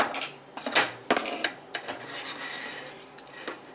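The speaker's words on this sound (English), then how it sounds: "Now we're just going to smash it on the pan here and try to form a crust." Cauliflower pizza crust pressed and smashed onto a pan with a spatula, giving a series of close scraping, clinking metal-on-pan strokes in irregular bursts, fairly quiet with no talk.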